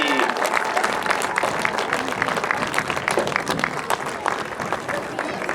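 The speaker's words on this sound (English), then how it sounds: "round of applause for the Spirit Singers, our Cub Scouts, and Mrs. Epke" A school audience claps for a children's singing group, Cub Scouts and a teacher, a dense crowd applause that stays loud and steady, with scattered voices and chatter underneath.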